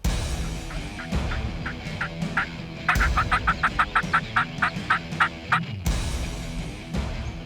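A mature wild turkey gobbler gobbles in a long, rapid series of sharp rattling calls. It is moderately loud and a little distant outdoors, and the bursts follow one another quickly over several seconds.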